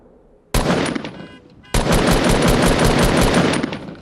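Automatic gunfire in a Fortnite Battle Royale solo-versus-squads match: a long, loud, close burst of rapid shots, a short pause, then another sustained burst running to the end.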